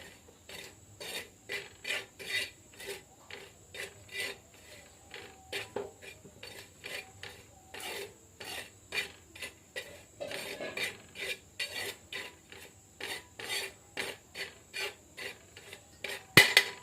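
Dry coconut roasting in a pan while making chicken curry, with a steady run of regular scraping, rasping strokes of a spatula against the pan, close and fairly quiet with no talking.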